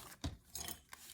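A paper trimmer's blade slices through a 12 x 12 sheet of cardstock, making a few short, close rasping strokes with brief pauses between them and no one talking.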